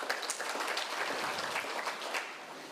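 Delegates at a Zimbabwe Prisons and Correctional Service parole conference give a sustained round of applause, an even crackle of many hands that holds steady, then eases slightly toward the end.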